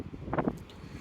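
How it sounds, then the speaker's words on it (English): Cold gusty wind buffets a microphone outdoors, a low rumbling rush with a brief muffled bump midway, steady and close. "It's windy."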